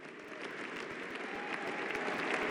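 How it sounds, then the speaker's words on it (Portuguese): Sustained applause from a large audience at the US Capitol greets Donald Trump's inaugural speech as the 47th president, a dense, even wash of clapping that holds steady and swells slightly toward the end, with no voices over it. "extremamente aplaudido no Capitólio"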